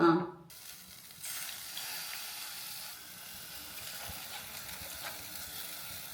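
Tamarind water goes into a pot of rasam heating in a Kerala home kitchen: a short splashy burst, then a steady soft sizzle and hiss that carries on quietly to the end.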